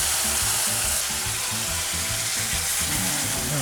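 Onions sizzle and fry steadily in a pan, a continuous close crackle with soft stirring pulses underneath and no talking.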